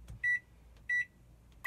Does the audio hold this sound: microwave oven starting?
yes